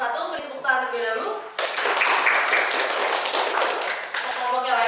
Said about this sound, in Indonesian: Beri tepuk tangan terlebih dahulu